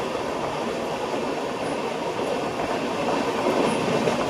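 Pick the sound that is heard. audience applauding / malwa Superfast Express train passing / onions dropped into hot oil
malwa Superfast Express train passing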